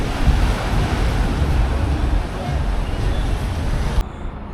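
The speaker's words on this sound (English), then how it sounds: "here comes the waves" Waves surging in the huge wave pool at the Mandalay Bay hotel in Las Vegas, a steady, loud wash of churning water and roar throughout, cutting off abruptly near the end.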